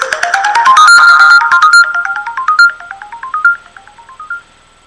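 A melodic phone ringtone sounds as the answer in a classroom guessing game, a bright run of descending and rising electronic notes that plays loud and alone, then slows and fades near the end.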